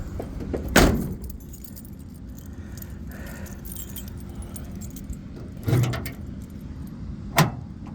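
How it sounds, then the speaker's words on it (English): Keys jangle sharply as they are pulled from the new ignition switch of a 1978 Chevy C-10 pickup: one loud metallic rattle, then two shorter jingles later, all close by over a low steady background hum. "Go ahead and take the key out of it."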